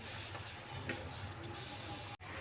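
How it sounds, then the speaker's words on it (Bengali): Rajma puris deep-frying one by one in hot oil, giving a steady, fairly quiet sizzling hiss with a brief dropout near the end. "এভাবে এক এক করে আমি সব পুরিগুলো ভেজে নিচ্ছি"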